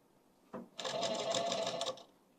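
Sewing machine stitching the side seam of a suit: a faint click, then a single steady whirring run of stitching lasting just over a second in a quiet room.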